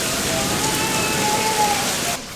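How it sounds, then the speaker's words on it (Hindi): Heavy rain pours in a dense, continuous hiss across a surface, steady and loud for the whole stretch, with no distinct thunderclap standing out and no talking. "बहुत तेज बारिश है गरजते हुए बादलों के साथ में।"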